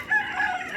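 A rooster on a small chicken farm crows once, a brief, bright, nearby call with a strained rising tone and no voices.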